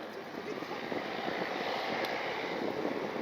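The Goodyear blimp, driven by three Lycoming engines, flies over an airshow in Akron, Ohio, giving a steady, distant engine drone mixed with broadband rumble that stays even throughout.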